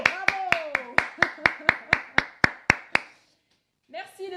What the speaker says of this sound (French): Donc moi, je vais vous applaudir parce que vous êtes absolument magnifiques et géniaux.